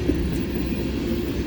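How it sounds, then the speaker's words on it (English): A CN freight train led by SD70M or SD75I locomotives rolls past in a short burst of steady, loud rumbling rail noise with no voices. "This train is most likely led by two soon-to-be rebuilt power, a CN SD70M or SD75I"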